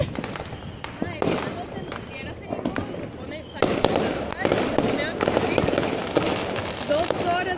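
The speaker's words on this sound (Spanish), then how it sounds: "De fuegos artificiales." Fireworks burst repeatedly at a Christmas celebration in Costa Rica, loud crackling explosions in quick irregular succession with excited voices calling out over them.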